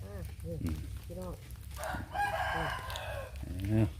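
Roosters crow several times in a row on a Thai farm, loud and close, with other birds and someone talking underneath.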